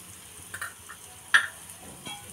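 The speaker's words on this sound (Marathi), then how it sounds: "आता हे आपण मिश्रण ह्याच्यात टाकलेलं आहे आणि याच्यावरती थोडं तेल सोडूया असं" Fasting appe batter cooking in a pan with a little oil, a faint steady sizzle with a few light taps and a sharper clink midway.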